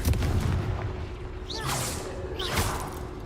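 Confringo fire spell blasts in Hogwarts Legacy, two whooshing bursts about a second apart over a rumbling game backdrop with music.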